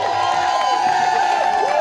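Outdoor crowd at a Protect our Children rally in Olympia, applauding and cheering in a dense continuous roar for nearly two seconds, with voices mixed in.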